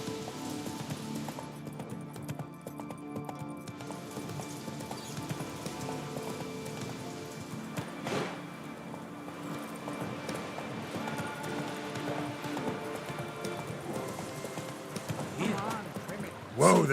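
Roach the horse's hooves clopping at a steady rhythm across the ground in The Witcher 3, moderately loud under continuous ambient game sound, with a voice speaking over it.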